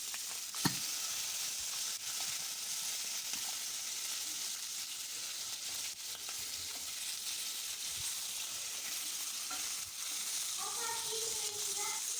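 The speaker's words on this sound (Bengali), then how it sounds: "এগুলো রেখে আমরা মাছের মাথাটা ভালোভাবে ভেজে নেব।" Fish heads fry in hot oil with a soft, continuous sizzle and crackle, plus a few faint clinks from the pan.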